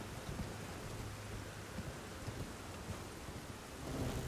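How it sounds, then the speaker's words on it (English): Rain pours steadily in Elden Ring's dark setting while low thunder rumbles faintly underneath, a continuous hiss with soft low rolls that swell slightly near the end, with no one speaking. "When it's raining and it's this dark,"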